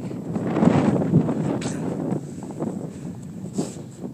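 Wind gusts across a snowy hilltop at Glossop Tops in March, buffeting the microphone in uneven, rumbling surges that swell and fade.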